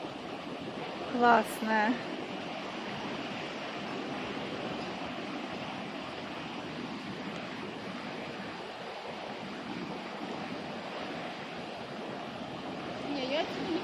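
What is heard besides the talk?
wide full-flowing river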